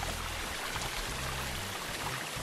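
Water runs through a stone drainage channel in the Inca ruins of Machu Picchu, a steady, close rushing and trickling flow with no pauses and no voices.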